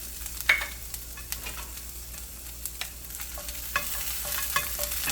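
Quarter of an onion and garlic frying in a little oil in a pan, soft steady sizzle broken by scattered sharp taps and scrapes of stirring, close and fairly quiet with no talk.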